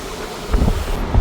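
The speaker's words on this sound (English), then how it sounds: "Today is a windy day. The wind almost blew me away." Wind blows outdoors on a windy day, a steady rushing roar with low gusty buffeting against the microphone that swells briefly near the end.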